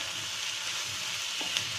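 Cucumber sabzi sizzling steadily in a hot pan on high flame, a continuous close frying hiss with a faint stir scrape near the end.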